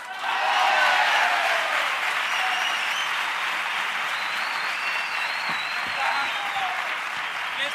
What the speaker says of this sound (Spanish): seguid aplaudiendo, no me tienen que llevar la Cruz Roja ni nada.